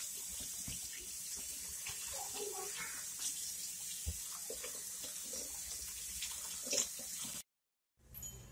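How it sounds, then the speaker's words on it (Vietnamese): Cold tap water runs into a sink to rinse beef for pho, a steady hiss and splash with small knocks and shifts of the stream, then a sudden brief cutoff to silence before the flow resumes. "right now we're adding in some cold water"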